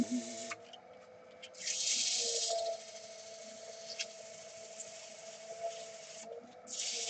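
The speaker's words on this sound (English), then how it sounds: "This is the sound of sanding." Sandpaper rasps back and forth across wood in slow strokes, a soft scratchy rubbing that swells and fades, close by and fairly quiet.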